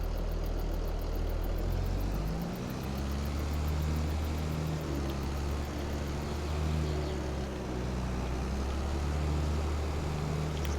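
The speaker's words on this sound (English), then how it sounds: "I think the tractor handled the plow pretty fucking well." A tractor pulling a plow in Farming Simulator 22 runs with a continuous loud engine drone that shifts in pitch partway through, with no talking over it.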